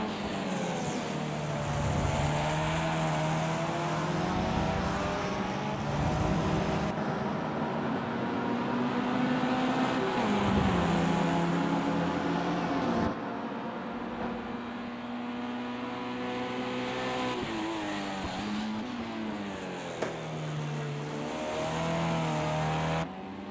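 Formula Ford race cars lapping a street circuit in a racing game, engines droning and revving continuously with rising and falling pitch as they shift and pass, loud and sustained throughout.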